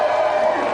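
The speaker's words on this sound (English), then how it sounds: "Round of applause for our special guest and the richest bloke we've ever had on the show, Stephen Hendry." Studio audience on a TV games show applauds and cheers for guest snooker player Stephen Hendry, a steady, dense wash of clapping with a few whoops, continuous and fairly loud for under a second.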